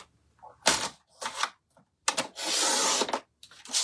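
A piece of card about 11 by 7 centimetres is cut in several short, close rasping strokes separated by brief pauses, with one longer stroke near the end.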